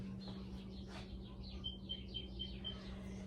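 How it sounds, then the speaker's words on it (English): Faint birds chirp outdoors in the morning, with a quick series of short, high tweets somewhat distant over a steady low hum. "You hear the birds?"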